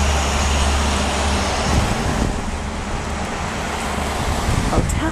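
Street traffic in Seneca Falls, New York: a steady roadway rumble from passing cars and trucks with wind buffeting, moderately loud and continuous, a vehicle swelling past near the end.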